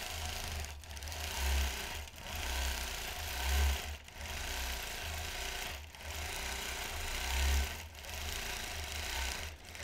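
A Vintage Gem quilting machine stitches feathers through fabric with a steady, close motorized whir. Low thumps pulse roughly every two seconds, and no one talks.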